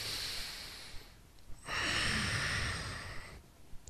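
Deep breathing during a yoga stretch in a pre-run routine for runners: a soft inhale, then a long, loud, close exhale of breathy hiss lasting nearly two seconds, heard alone with no talking.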